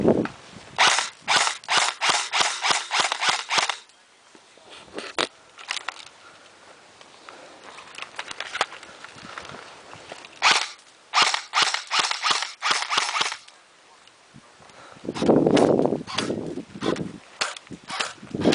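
Rapid bursts of airsoft gunfire crack out at an outdoor airsoft event, volleys of sharp clicking shots in quick strings separated by short pauses, with a quieter stretch of softer pops in the middle.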